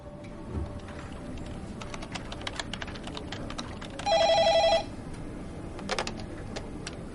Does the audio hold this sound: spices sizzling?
no